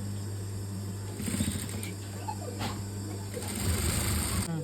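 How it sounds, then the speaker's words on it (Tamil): An electric sewing machine stitches along a blouse neckline, its motor running in close, loud bursts of rapid clatter separated by short pauses and an underlying steady hum. "இதுக்கு மேலே நம்ம அமுக்கு தையல் போட்டுக்க போகிறோம்"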